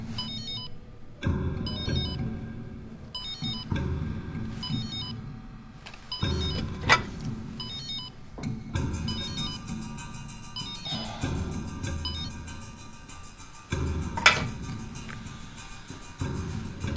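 A telephone ringtone rings in a Chinese TV drama, repeating in regular bursts with brief gaps and steady loudness, no talk over it.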